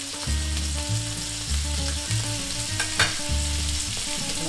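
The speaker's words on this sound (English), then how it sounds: "pop it into the pan. And there's your sizzle." Lamb chops sizzle steadily in a hot pan, a constant crackling hiss beneath looping background music, with one sharper pop near the end.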